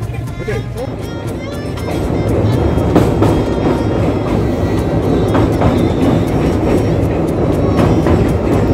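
Doon Express passenger train running on rails between Howrah and Varanasi, a steady loud rumble of wheels with repeated clicking beats, growing heavier after the first couple of seconds.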